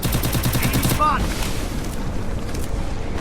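Gunfire from the battle royale game Free Fire rattles in a loud rapid burst for about a second, followed by a softer, noisier stretch of game sound.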